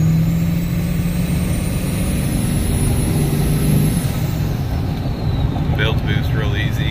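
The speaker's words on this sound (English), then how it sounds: "built boost real easy and a lot of turbo noises" Engine idling and warming up on a vehicle fitted with a KC S300 turbo turbine wheel, with a steady rumble, a rising turbo whine that falls away, and faint voices underneath.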